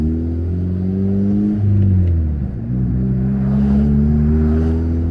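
A short bus with a manual transmission drives along, its engine a loud, close, steady drone that revs up, dips briefly as if through a gear change, then pulls again, with no talking.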